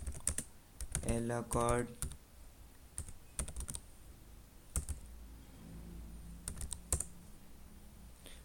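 Sharp taps on a computer keyboard as a terminal command is entered on an Ubuntu Linux machine, coming in short clustered bursts and single clicks, with someone speaking briefly between them.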